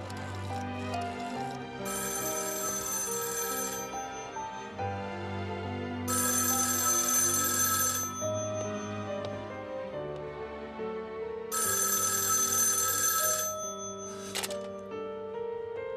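A telephone rings in three long bursts spaced about four seconds apart as a call is placed in a Chinese wartime spy drama, with background music playing underneath.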